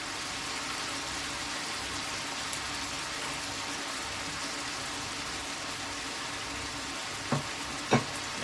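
Boneless saltfish frying in a pan for callaloo, a steady low sizzle running throughout with a couple of brief clinks near the end, no voices.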